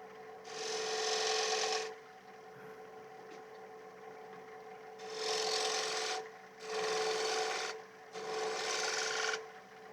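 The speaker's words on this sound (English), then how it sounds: "a spindle gouge, the Henry Taylor one again. It's one of my favourite tools. Just shear scraping to refine that curve." A Henry Taylor spindle gouge shear-scrapes a curve on a wooden plate turning on a lathe: four sustained, close rasping passes of one to two seconds each over a steady machine hum, with no voices.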